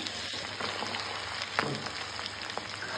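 Fish frying in a pan for a Sunday fish fry, giving a soft, steady crackling hiss like light rain with a few sharper pops, fairly quiet and uninterrupted.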